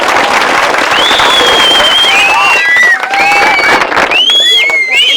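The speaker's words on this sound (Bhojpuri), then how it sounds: "इसी बात पर बजाओ ताली।" Applause fills a lively Bhojpuri comedy stage show, a dense crowd clapping steadily throughout, with shrill whistles and cheering rising over the clapping.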